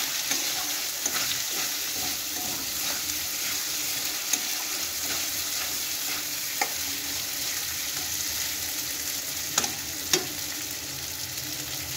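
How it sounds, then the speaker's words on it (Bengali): Spices sizzle steadily in a hot pan while a utensil stirs and scrapes them, for a turnip and potato dalna; the frying hiss runs continuously at close range with occasional sharper clicks of the spoon. "এবার আমার মশলাটা ভাজা হয়ে গেছে"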